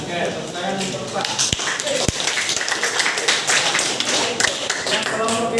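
Scattered clapping from a classroom group applauding a presenter during a teachers' mentoring session, with brisk overlapping claps throughout and a busy room underneath.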